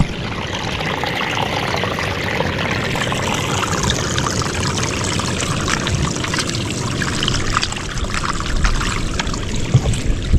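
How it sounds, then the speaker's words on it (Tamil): Continuous rush of water pouring and trickling through a traditional fish-catching trap, loud and close, with no voices. "தண்ணி வேறு சூப்பராக ஊற்றுது."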